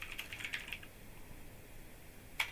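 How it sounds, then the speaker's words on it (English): Clicks from a clicky computer keyboard being typed on: a quick cluster of faint, crisp keystrokes at the start, a pause, then one sharper click near the end, with no voices. "excuse my clicky keyboard."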